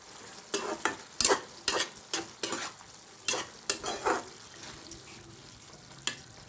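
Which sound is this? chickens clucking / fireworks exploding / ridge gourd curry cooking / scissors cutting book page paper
ridge gourd curry cooking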